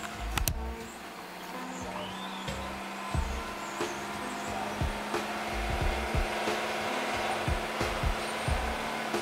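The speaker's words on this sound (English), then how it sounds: "it has like a really bad vacuum leak" Idling car engine with a vacuum leak, a low, uneven rumble that rises and falls in repeated surges, steady and close, with no talking.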